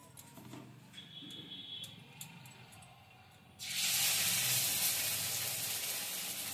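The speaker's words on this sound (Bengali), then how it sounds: "বাকিগুলো আমি এভাবে ভেজে নিচ্ছি।" Green banana peel frying in oil, a faint sizzle that jumps to a loud, steady broadband hiss partway through and stays strong to the end.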